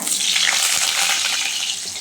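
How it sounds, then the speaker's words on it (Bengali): Potatoes frying in hot oil in a kadai for egg biryani give a steady, bright sizzle that stays even and close throughout, with no voices. "এবার আলুটা ভেজে নেব"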